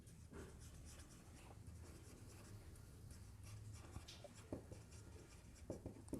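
Pen or marker writing notes on a board or page during a Hindi physics lesson on projectile motion, a steady faint scratching and rubbing with a few sharper taps, close and quiet with no speech over it.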